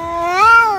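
A cat gives a single loud, close meow that rises and then falls in pitch, with no talk over it.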